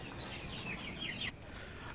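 Country chickens at a farm at night, soft intermittent clucks and faint calls heard faintly over a low background hum.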